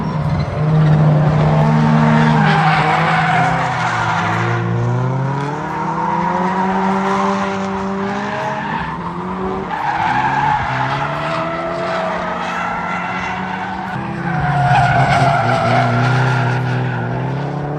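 Engines rev and wail as cars drift at Fuji Speedway race track, with tires squealing in long sliding arcs; loud and continuous, pitch climbing and falling repeatedly.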